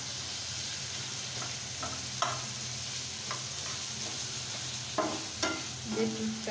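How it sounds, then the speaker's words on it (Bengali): Noodles with beetroot cook in a pan, giving a soft steady sizzle broken by several sharp stirring clinks and scrapes, with no talk. "বিটরুট সঙ্গে নুডলস রান্না করছি"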